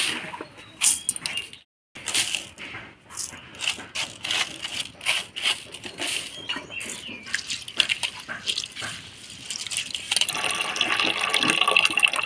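Black gram lentils being washed in water: continuous splashing, sloshing and pouring with rapid irregular bursts, fairly close and loud, with a brief pause near the start and a steadier rushing flow toward the end, no talk.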